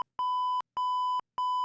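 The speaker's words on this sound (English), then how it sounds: "They just used the beep button." A steady electronic censor bleep tone sounds three times, each about half a second long, separated by short silences.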